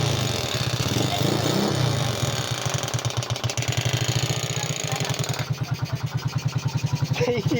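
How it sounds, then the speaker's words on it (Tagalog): A motorcycle engine with a newly fitted exhaust and a loose, untightened screw runs loud and close, a rapid steady pulsing idle that gets choppier near the end. "Nagtaka ako dyan kung bakit sobrang ingay ng motor."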